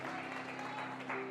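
A church congregation claps briefly while a sung or held tone rings underneath, the clapping thin and moderately distant.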